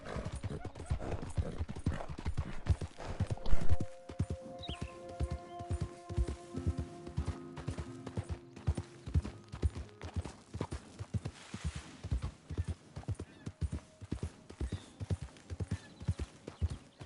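Horse hooves clip-clop steadily in Red Dead Redemption 2, a brisk, even rhythm of close hoofbeats over outdoor ambience, with a brief neigh and faint distant animal sounds early on.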